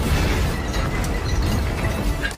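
Airplane exploding in a film scene: a dense, loud roaring blast of rumble and debris noise that holds steady for over two seconds before cutting off abruptly, with no voices.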